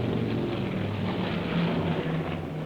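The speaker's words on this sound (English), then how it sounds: "Another new visitor is the RAF Argosy, passing over low with its alligator doors open in the rear." An RAF Argosy transport aircraft with its rear alligator doors open passes low overhead at a 1964 air show, giving a steady, loud engine roar that holds evenly throughout.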